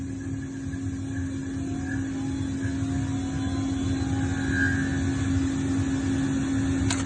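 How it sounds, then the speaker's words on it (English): A yarn winding machine runs with only winding head number 7 active, giving a steady continuous mechanical hum with a constant tone and faint whirring overtones, no talking. "Run spindle."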